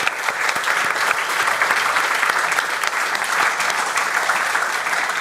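A crowd at a guitar clinic applauds steadily and loudly throughout, dense clapping with no pauses or speech.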